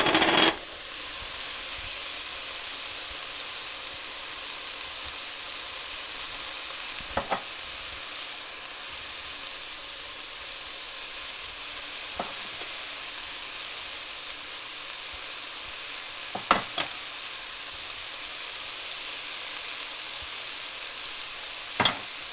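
Spices and sweated-down vegetables sizzle steadily in a pot for a one-pot meatless chili, a constant loud frying hiss with a few sharp stirring clicks scattered through.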